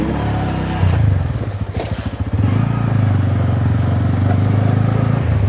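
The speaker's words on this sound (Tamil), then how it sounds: "Oscillator கொடுக்காமே bike போகுதான்." A motorcycle rolls along near Muthaiyankattu tank with the rider off the throttle. Its steady, close engine drone dips briefly and then carries on evenly, with no voices.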